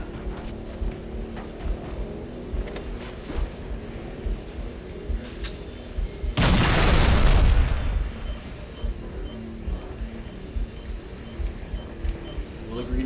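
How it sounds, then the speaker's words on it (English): A grenade goes off in a video game: a single deep, rumbling boom that swells and fades over about a second, set against steady game ambience and scattered small thuds. "Throwing a grenade."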